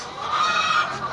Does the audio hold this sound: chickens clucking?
yes